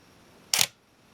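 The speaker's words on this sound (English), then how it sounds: "Shutter stays open, lens stays stopped down as long as I hold the button, and when I release, it resets." A Minolta X-700 camera with a 50mm f/1.7 lens fires its shutter on the bulb setting, producing a single sharp mechanical clack as it releases and resets, close and alone against quiet room tone.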